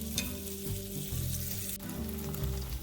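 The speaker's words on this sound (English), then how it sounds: "I'm going to let this all sit on one side to brown," Chunks of beef browning in a pan for stew, a steady close sizzle and crackle of frying with faint stirring, no voices.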